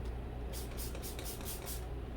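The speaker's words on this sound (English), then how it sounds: "I'm gonna start with this Leaf Radiance spray on the Esmeraldents." Leaf Radiance plant spray misted onto houseplants from a trigger bottle, about six quick hissing spritzes in a close, quiet, even rhythm.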